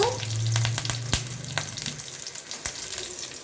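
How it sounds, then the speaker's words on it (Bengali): Green chillies sizzle and crackle in hot oil close by, with a few sharp pops. A low hum at the start soon fades. "এখন আমি তেলের মধ্যে দিয়ে দেব কাঁচা লঙ্কা"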